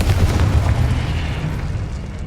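Confringo spell explosion in the video game Hogwarts Legacy, a loud booming burst with a rumbling tail that fades over two seconds, with no voices.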